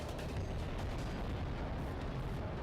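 Weapon fire blasts continuously in the Dreamcast shooter SturmWind, a dense, unbroken barrage of rumbling explosions and gunfire with no pauses.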